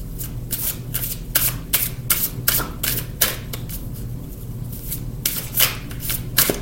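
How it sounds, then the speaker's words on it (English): Oracle cards are shuffled by hand with quick, crisp riffling bursts and soft slaps, close and fairly loud, repeating irregularly over a low steady hum. "let's go ahead and draw an oracle card"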